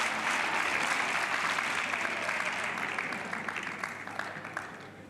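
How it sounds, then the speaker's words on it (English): Sustained crowd applause fills the arena at a gymnastics final at the Portugal Grand Prix 2022, a dense even wash of clapping that slowly thins toward the end. "there's a round of applause from the crowd"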